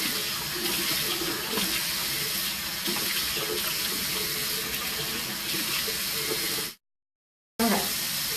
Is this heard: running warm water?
yes